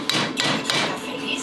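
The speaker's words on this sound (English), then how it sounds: "Get your hammer, go ahead and give it a few taps." Hammer taps driving a pin into the block of a Predator 212cc small engine, three or four sharp metallic strikes about a third of a second apart, close and fairly loud.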